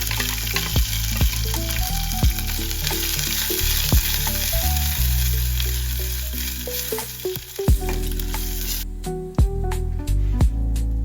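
Hot water poured into a pan of masala fried in a cumin and mustard seed tempering for shev bhaji, loud sizzling and bubbling with clinks and scrapes of stirring, then a sharper hiss near the end.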